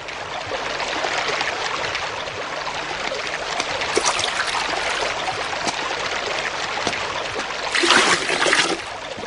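Water from the Seine pours and splashes in a steady rushing trickle, close by, swelling into a louder gush near the end; no clear speech.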